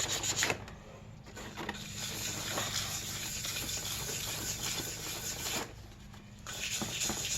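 Hand sanding a 1983 Yamaha XV920M engine cover with sandpaper: soft, steady back-and-forth scratchy rubbing strokes, fairly quiet and close, with brief pauses.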